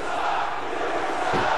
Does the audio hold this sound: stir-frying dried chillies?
no